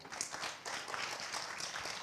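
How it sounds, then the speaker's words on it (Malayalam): An audience claps for a young girl at a children's book festival event, a steady, dense wash of applause filling the whole stretch at moderate volume. "നിങ്ങളെല്ലാവരും ഒരു കൈയടി കൊടുത്തേ"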